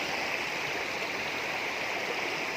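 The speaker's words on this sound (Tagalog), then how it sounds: "At banayad din ang ilog." A gentle river flows steadily through Sierra Madre rainforest, its constant watery rush close and even from start to finish with no voices.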